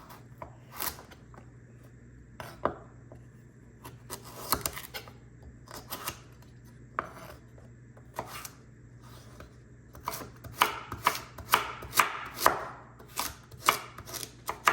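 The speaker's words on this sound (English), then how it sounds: "you don't have to do very fine chop" Vegetables for split pea soup being roughly chopped with a knife on a board, a close, crisp run of irregular thuds that speeds into quick bursts of cuts toward the end, with no voices.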